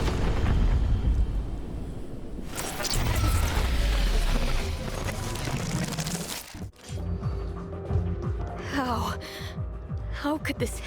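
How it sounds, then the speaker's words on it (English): A video game explosion: a loud, rumbling roar that swells, drops off sharply, then gives way to crackling debris and lingering noise, with voices talking and gasping over it. "Where did this explosion come from?"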